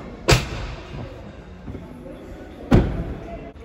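Two doors of a Fiat Fiorino van shut one after the other with firm, solid thuds about two and a half seconds apart, close by, with faint talking in between.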